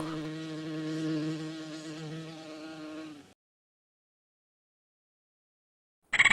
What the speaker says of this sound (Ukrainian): Жук.